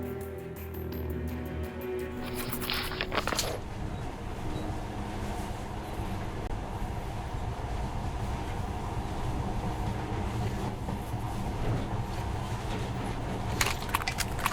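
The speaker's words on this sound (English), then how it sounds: "But now, this monorail seems magic, doesn't it?" A monorail train in the video game Metro: Last Light rumbles steadily and loudly throughout, with metallic clatter and jingling early on and a few light rattles near the end.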